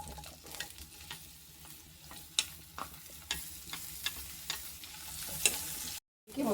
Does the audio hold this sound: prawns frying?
yes